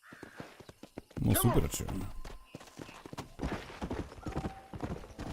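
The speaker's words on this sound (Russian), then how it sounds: "Вам удалось укротить кентукскую верховую, редкую и резвую породу лошадей." Kentucky Saddler horse in Red Dead Redemption, its hooves clip-clopping in a quick walking rhythm with a whinny, heard alongside in-game speech and someone talking over it.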